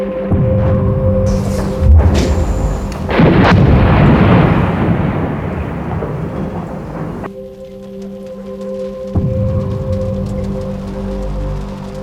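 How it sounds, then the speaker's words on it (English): Artillery shells strike the Sarajevo National Library after nightfall, with loud, heavy booms and a deep rolling rumble that swells and fades over a long stretch. "On the 25th of August, shortly after nightfall, it was bombarded from multiple locations"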